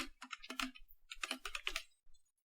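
A computer keyboard being typed on while laying out a business card in Photoshop, a short quiet burst of rapid key clicks in two quick runs with a brief pause between.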